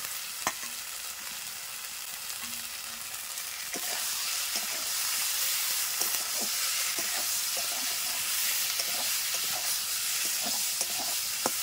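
Tomatoes are tipped into a hot pan of spices while cooking jackfruit curry, giving a steady close sizzle and frying hiss with occasional stirring clinks and scrapes that grow louder about midway.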